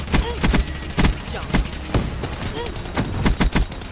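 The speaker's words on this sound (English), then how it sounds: "we got the XMC, which is the remake of the MSMC" XMC submachine gun firing in Call of Duty, in several short bursts of loud, sharp shots spread across the clip with clutter and faint game sounds in between.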